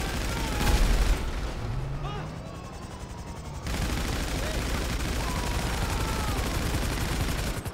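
Gunfire in the video game GTA 5 Online, heard as a dense, noisy rattle that fills most of the stretch, dips briefly and then returns steady and loud.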